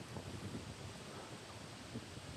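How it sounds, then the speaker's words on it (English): Wind gusts outdoors in a park, a steady rough rumble buffeting the microphone with soft rustling throughout and no speech. "Windy out, though. It's windy out."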